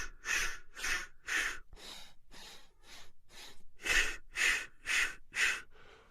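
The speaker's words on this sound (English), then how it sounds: "the ratio of breath is you're inhaling 4 breaths in a row, so it's, and then you're exhaling 4 in a row" Rhythmic breath walking, with sharp, forceful sniffs through the nose in quick sets and airy exhales, a close, loud series of about a dozen regular pulses separated by brief silences.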